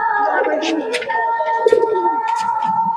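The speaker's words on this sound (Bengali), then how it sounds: "অসাধারণ কবুতর অসাধারণ" Soft cooing of Madras pigeons rolls on continuously nearby at a pigeon sale, with a steady hum and occasional voices in the background.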